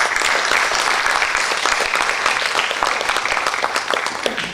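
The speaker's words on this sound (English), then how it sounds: "give him a big clap for that kind of an achievement" Audience at an art slide lecture in Chandigarh giving a hearty round of applause, dense and sustained clapping that stays loud before easing slightly toward the end.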